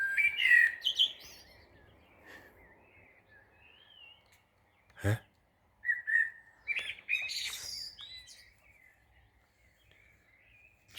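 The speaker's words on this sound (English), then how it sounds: "God, hear these birds, man." Birds chirp and whistle in scattered bursts at around four in the morning before dawn, some calls near and bright, others faint, with long quiet gaps, a sharp thump and a brief spoken interjection.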